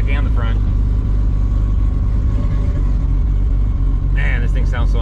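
A Toyota Supra with a TH400 transmission hums loudly and steadily while driving, with a low rumbling drone throughout and a voice briefly heard at the start and end.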